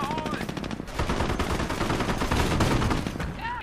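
Company of Heroes battle gunfire: sustained machine-gun bursts and rifle shots crackle loudly in rapid succession, dense and continuous, with a short squeal of other in-game sound at the start and end.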